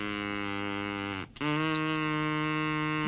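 A shortened drinking-straw reed blown by mouth gives a steady, buzzy, reedy drone, breaks off for a moment, then resumes slightly higher in pitch, close and alone.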